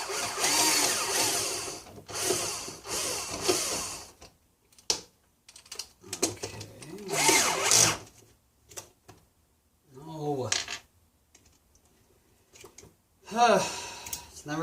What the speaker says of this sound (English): I've already preset my drill, so we can unscrew this